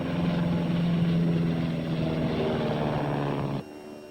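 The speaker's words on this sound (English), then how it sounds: "up in his crop dusting plane right now searching the valley" A crop-dusting propeller plane drones loudly and steadily overhead, its engine hum holding throughout before cutting away abruptly near the end.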